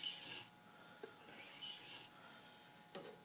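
A knife blade is hand sharpened on a micro bevel, giving faint, close rasping strokes in a slow irregular rhythm, with a few light clicks between them and no talking.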